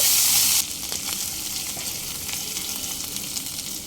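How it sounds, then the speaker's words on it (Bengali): Crushed ginger and green chilies hit hot oil with a loud burst of sizzle that settles into a steady fry, with occasional light stirring scrapes, close and without talk. "এক ইঞ্চ পরিমাণ আদা আর তিনটে কাঁচা লঙ্কা থেতো করে নিয়েছি দিয়ে দিলাম কয়েক সেকেন্ড একটু নেড়ে নেব"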